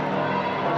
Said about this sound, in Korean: 종소리가 울려 퍼집니다.